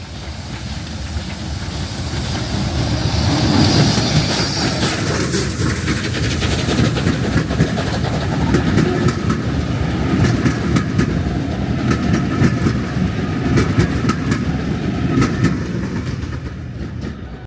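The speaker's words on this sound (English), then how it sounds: "let's get that locomotive passing through Erdington" Steam locomotive 34027 Thornaby, a West Country Class engine, passes close by through Erdington, a loud continuous roar of exhaust and rolling wagons with steady clatter and hiss throughout.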